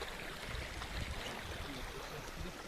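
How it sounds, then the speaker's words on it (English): A small creek flows through the redwood forest of Muir Woods, a steady soft rushing babble heard close and continuous throughout. "A nice little creek."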